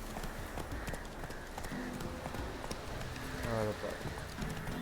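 Horse hooves clip-clop in The Witcher 3 as the mount trots along in a rhythmic, moderately close patter, while someone talks over it in Spanish.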